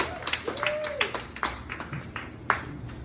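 A comedy club audience greets a stand-up comic with scattered clapping, whoops and a brief whistle, a modest burst of applause heard close and fairly quiet.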